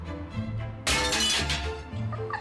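A glass picture frame thrown into a rubbish skip at a dump smashes with one loud shattering crash, and broken glass tinkles and settles afterward.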